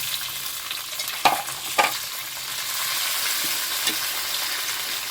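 Tomatoes and onions sizzle steadily in a hot pan, with a few sharp scrapes of a spoon stirring them in the middle; a continuous close-up frying hiss with no talking.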